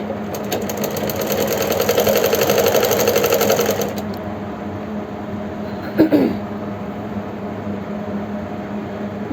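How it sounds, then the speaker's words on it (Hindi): Sewing machine stitching a palazzo, a fast loud run of rhythmic needle clatter for a few seconds that then stops, followed by a single sharp click and quiet background hum. "इसी तरह से मैं प्लाजो की स्टिचिंग करती हूँ स्टेप बाय स्टेप।"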